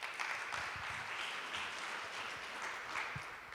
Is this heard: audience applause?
yes